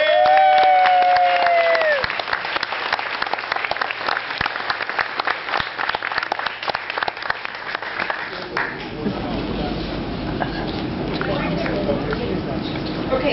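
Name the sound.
applause from reunion audience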